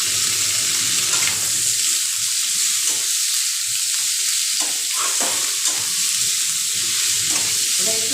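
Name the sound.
potato slices frying in oil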